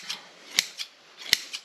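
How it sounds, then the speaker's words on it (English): Scissors snip through soft, fibrous rockwool insulation: two crisp cuts with lighter rustling between them, close and fairly quiet. "it cuts rather easy with the scissors"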